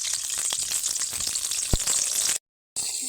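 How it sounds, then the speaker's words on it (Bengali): Washed purple cauliflower florets hit hot oil in a wok with a continuous bright sizzle, a couple of sharp crackles, then a brief cut to silence before the frying resumes. "তেলটা গরম হয়ে গেছে এইবার ধুয়ে রাখা ফুলকপিগুলো দিয়ে দেবো"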